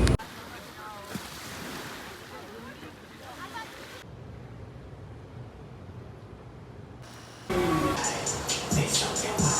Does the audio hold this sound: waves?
yes